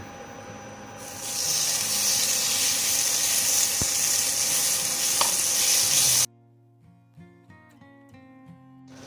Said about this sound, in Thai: ใส่สามเกลือในน้ำมันพืชนะครับ put in vegetables oil